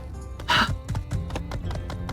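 A horse in My Time at Sandrock, with a run of clip-clop hoof steps and a brief snort or whinny near the start, close and clear with no talking.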